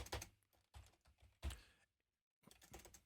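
Quiet, close computer keyboard typing in a few quick clusters of soft clicks, a brief silent gap, then another short run of keystrokes.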